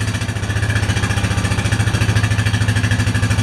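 A Honda Rancher 420 ATV engine idles steadily right after an old start, a close, even low chugging pulse with a fast regular beat and no voices.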